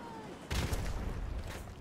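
Dense bursts of gunfire in Modern Warfare Remastered multiplayer erupt suddenly after a quiet start and keep crackling loudly for over a second, with another sharp volley near the end.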